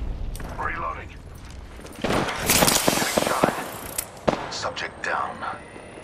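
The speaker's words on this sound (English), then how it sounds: "Shots. Firing." Rapid gunfire bursts from Apex Legends combat, dense crackling volleys over about two seconds with sharp single shots after, alongside voiced game callouts.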